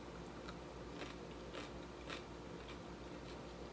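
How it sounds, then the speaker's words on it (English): A single quiet crunchy bite into a pickle, followed by soft chewing crunches in a close, otherwise quiet setting. "Grab a bite of pickle."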